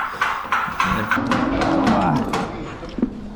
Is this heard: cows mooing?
yes